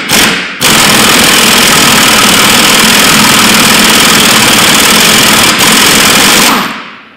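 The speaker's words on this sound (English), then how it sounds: "So I'm gonna air gun it out." An air impact gun works loose a very tight 8mm Allen key bolt with a normal thread on a Ford Mondeo Mk5 2L diesel. It gives one loud, sustained rattling burst of about six seconds, close by, with a brief catch midway.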